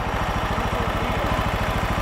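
A John Deere LX172 lawn tractor engine idles steadily and loudly up close, its fast, even pulsing chug continuing without a break.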